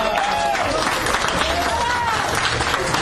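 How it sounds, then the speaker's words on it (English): Loud, sustained audience applause and crowd noise at a radio-station tribute event, a dense wash of clapping with a voice rising faintly through it. "So let's give her a big round of applause."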